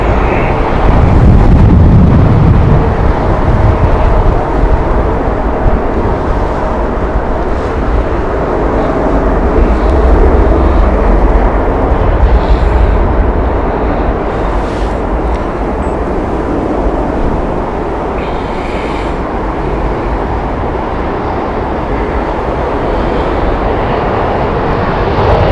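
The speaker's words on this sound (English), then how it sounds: "BA just taking off there." A British Airways plane taking off at Heathrow, a loud continuous roar with heavy wind buffeting the microphone, fading slightly over the final stretch.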